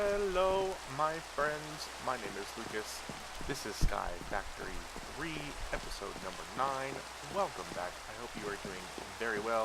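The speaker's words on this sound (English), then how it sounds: "Sorry about the rain." Steady rain in the video game Minecraft Sky Factory 3, a continuous patter and hiss under someone talking throughout.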